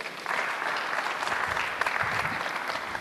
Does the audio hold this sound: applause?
yes